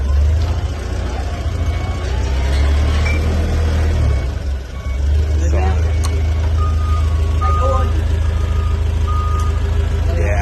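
A forklift slowly backs into a box truck, its reversing alarm beeping in a steady repeating pattern over a loud low engine rumble, while someone talks nearby.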